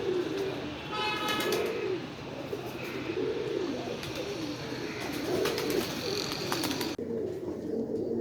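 Pigeons coo in repeated soft, low rolling phrases against constant background noise, with brief higher chirps from other birds.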